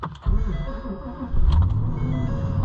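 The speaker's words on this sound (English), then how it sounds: "super cheap truck. You haven't run since yesterday. Will you start?" A cheap pickup truck that has sat unused since the day before cranks briefly, then catches and settles into a steady, close rumbling idle.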